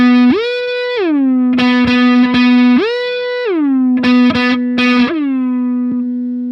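Distorted electric guitar through a high-gain Polychrome DSP Nunchuck amp sim, loud and dry, playing sustained low chords broken by short choppy stabs and brief mutes, without anyone talking.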